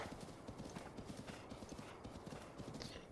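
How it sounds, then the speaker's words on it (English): Horse hooves clip-clopping steadily in the video game Zelda: Breath of the Wild, a quick continuous rhythm of close, moderately loud footfalls with a faint whinny and soft background game ambience. "Let me first register this horse."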